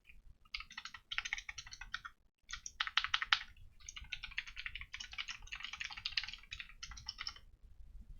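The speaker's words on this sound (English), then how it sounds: "An easy example of that is touch typing." Touch typing on a computer keyboard makes close, fast, continuous key clicks in quick bursts over about seven seconds, with short pauses between runs and no voices.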